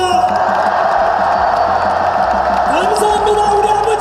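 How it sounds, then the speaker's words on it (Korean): Crowd at a street rally in Gwangju cheering and applauding, a dense roar of voices and clapping with shouts rising above, loud and continuous throughout. "박수를 부탁드립니다."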